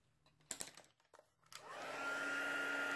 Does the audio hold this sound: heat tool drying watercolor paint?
yes